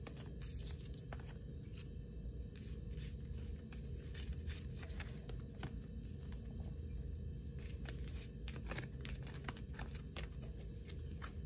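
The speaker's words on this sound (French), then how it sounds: "bon, je range mes cartes." Tarot cards being gathered and put away: soft, irregular shuffling and patting of card stock, close and steady throughout, over a low background hum, with no voices.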